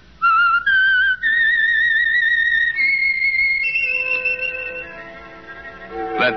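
A clear, close whistled theme melody for The Whistler radio drama, with long held notes stepping up and down in pitch, fading toward the end.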